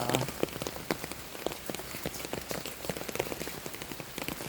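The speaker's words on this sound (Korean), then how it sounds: "비 오는 날둘리아 엄마는 산책을 나왔어요" Steady rain pattering on a hard surface outdoors on a rainy day during a walk, with close, dense drop hits spread evenly through the whole stretch and no voices.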